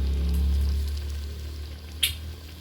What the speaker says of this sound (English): We are still cooking the tomato paste.